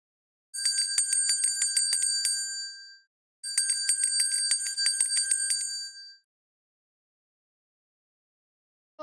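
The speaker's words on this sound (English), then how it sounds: "It was a sound of a bell ringing, a simple sound of bell." A small bell rings rapidly in two long bursts of about two and a half seconds each, bright and close, separated by a short pause and then a brief third start, with no talking.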